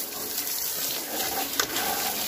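Water sprays onto a Pulsar 220 motorcycle during a wash, a steady hissing splash with a brief louder spurt partway through and faint voices in the background.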